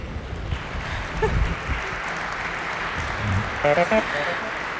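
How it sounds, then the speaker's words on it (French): Applause rises from an audience watching a NAO robot sit down, a soft, diffuse spread of clapping under a noisy room, with a person talking over it and a few sharper sounds near the end. "Vous avez même eu des applaudissements."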